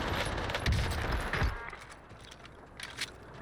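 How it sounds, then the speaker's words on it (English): Burst of rapid Armaguerra 43 SMG gunfire in Warzone, loud and dense for about a second and a half, then dropping to quieter shuffling and a faint distant shot. "Keep in mind, this is an SMG."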